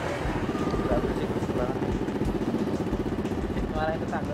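A motorcycle idling with a muffled exhaust, a steady low putter running under conversation between two people, with a few faint higher squeaks from nearby traffic.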